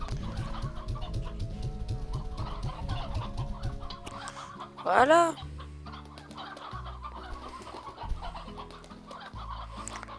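Hens clucking in the Slime Rancher video game, a run of rhythmic close clucks followed by a brief loud squawk and scattered softer clucks, with a short spoken word over them.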